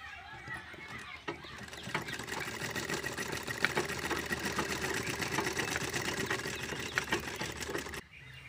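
A sewing machine runs steadily while stitching baby frock fabric, a dense continuous rattling whir that holds for several seconds before stopping abruptly near the end; it is close and fairly loud.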